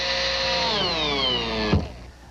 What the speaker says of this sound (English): So I'm going to screw this down.